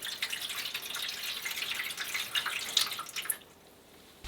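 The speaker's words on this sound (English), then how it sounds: "After an hour, pour water into the pan and continue cooking." Water is poured into a pan of homemade sausages as they cook, giving a soft, steady splashing hiss for about three seconds before it stops and the room goes quiet.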